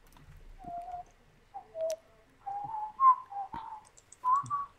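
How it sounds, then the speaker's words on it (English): A person whistles a halting tune of short, clear notes with brief pauses between them, close and fairly quiet, with no talking. "Why are you whistling?"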